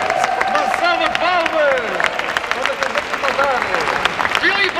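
Crowd of pilgrims at a Fátima pilgrimage gathering clapping and cheering loudly and steadily, with voices calling out over the dense applause throughout.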